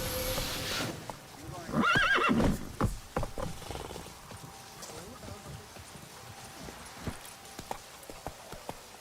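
Roach, the horse in the video game Witcher 3, lets out a loud, whinnying neigh near the start, followed by scattered hoof clops and game ambience fading to quieter background.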